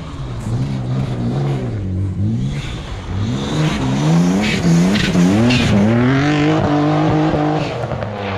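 Bi-turbo BMW 325i E36 race car accelerating hard, loud and close, its engine note climbing through repeated revving pulls with rising, wavering pitch throughout.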